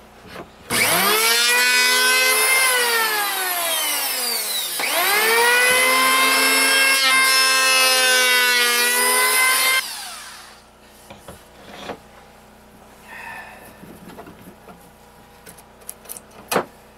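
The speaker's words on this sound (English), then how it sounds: "It's not a perfect solution, but it is planing that flat for me." A hand power planer shaves a wooden board flat in two long loud passes, its whining motor pitch rising and falling, followed by quieter bumps and handling noises.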